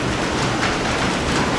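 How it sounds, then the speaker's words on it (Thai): Hailstones pelt down in a summer hailstorm, a loud, dense and unbroken patter that stays steady throughout, with no voices. "เสียงที่ได้ยินอยู่นี้เป็นเสียงลูกเห็บตก"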